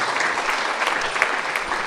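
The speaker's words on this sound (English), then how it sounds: "Let's have a round of applause for them." Audience applause at a book launch for a volume on Eppich House II, an Arthur Erickson-designed home: a steady, dense clapping from a sizable crowd that holds at an even level throughout.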